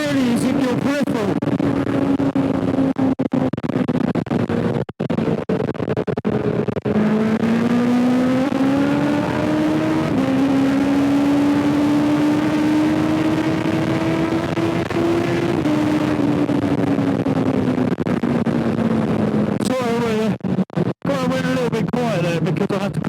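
A motorbike rides along a road, its engine holding a steady droning note that rises and falls with throttle changes. Wind buffets the sound throughout and a voice talks over it.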